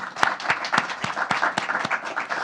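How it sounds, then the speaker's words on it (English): An audience at a community reading event gives a short round of applause, with dense, even clapping close by and no voices over it. "So help me by thanking everybody, give them a round of applause"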